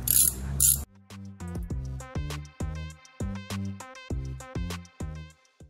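Screws being removed from a vehicle axle end in sped-up footage, heard as a quick series of ratcheting clicks and high-pitched whirring bursts after a brief rush of noise.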